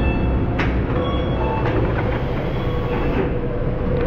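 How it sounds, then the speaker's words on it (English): A Dubai monorail train in motion, a steady loud rumble of running gear with faint clicks and a few brief squeaks, heard from onboard with no talking. "You're on the monorail?"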